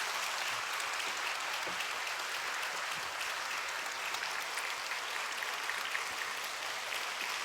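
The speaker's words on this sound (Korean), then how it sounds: "우리 목사님 나오실 때 환영의 박수 한번 드리겠습니다." A church congregation applauds to welcome a pastor to the pulpit before a Sunday morning sermon, a steady, dense roomful of clapping that holds evenly at full strength throughout.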